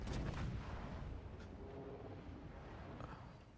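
Battleship secondary guns firing in World of Warships: Legends, a deep booming volley at the start, then rumbling gunfire fading under a low roar, with faint bangs scattered through the rest.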